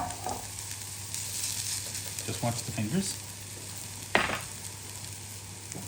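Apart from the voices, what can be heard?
rosti sizzling in frying pan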